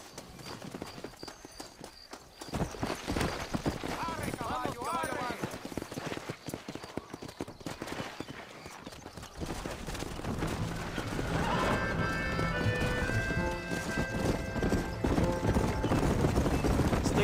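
Horse hooves clip-clop at a steady run in the Red Dead Redemption video game, rising and growing busier toward the end, with a horse whinnying and voices talking over the riding.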